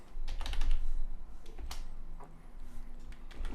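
Quick bursts of keystrokes on a computer keyboard, close and crisp, a short run of taps followed by a few spaced clicks, no voices.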